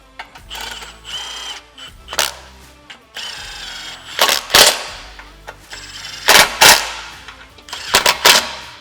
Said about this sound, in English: we're going to go ahead and fully tighten these 4 bolts